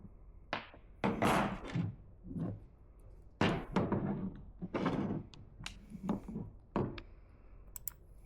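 Sharp knocks on the steering yoke of a Rush SR, tapped to work it loose from the outer sides. The hits come close and irregular, some single and some in quick clusters, with quiet gaps between them.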